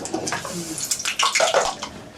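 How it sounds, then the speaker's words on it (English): Vegetables are dropped into a pot of boiling water, giving a burst of splashing and bubbling that grows louder and busier over about two seconds, close by with no talk. "We put the vegetable in the boiling water."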